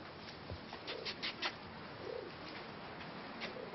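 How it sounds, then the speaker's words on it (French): Pigeons coo softly and repeatedly at a moderate distance, low rolling calls in short bursts over a steady background hiss. "Les pigeons, vous allez voir comme ils sont beaux."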